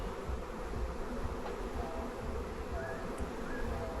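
Honeybees hum in a dense, continuous buzz during a beehive inspection, close and steady with no talk over it.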